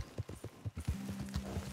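Horse hooves clip-clopping in Red Dead Online, a quick run of about eight regular thuds close by, with a steady droning tone joining partway through.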